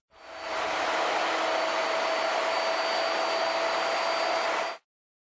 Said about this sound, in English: Then, route it side to side to clean it out.